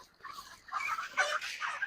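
Broiler chickens in a poultry shed on a farm make a steady chorus of soft, overlapping clucks and chirps at fairly close range, with no talking.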